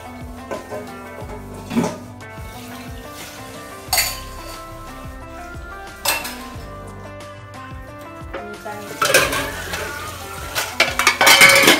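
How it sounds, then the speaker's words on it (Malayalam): Pots, pans and dishes being washed in a home kitchen, with clinks, scrapes and clatters of metal cookware and cutlery recurring every couple of seconds over a bed of background music, louder near the end. "അപ്പോൾ അതൊക്കെ ഒന്ന് കഴുകി ഇവിടേക്കൊന്ന് അടിച്ചു കയറി ഒന്ന് തുടച്ചിടുകയാണ്"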